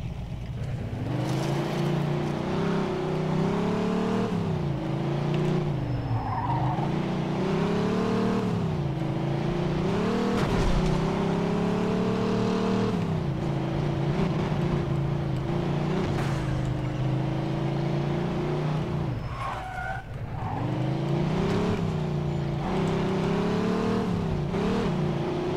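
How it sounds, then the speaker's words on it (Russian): A car in the 2010 video game Mafia II drives continuously, its loud engine revving up and down in repeated waves, with brief tyre skids and a short dip near the end. "Если звук машины слишком шумный"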